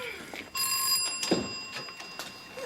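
An old-fashioned telephone bell rings in a short burst, fairly close, with a few thumps and faint movement around it.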